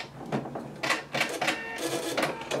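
A Husqvarna Viking Epic 980Q sewing machine trims its thread with a few short whirring, clattering mechanical bursts close by, separated by brief gaps.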